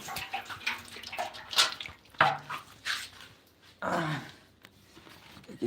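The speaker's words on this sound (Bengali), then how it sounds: "গরুতে পানি খাইতে খাইতেছে দেখতে পাচ্ছেন" A household cow drinks water from a container, giving irregular wet slurps and splashy gulps in bursts, close by and moderately loud with no talking.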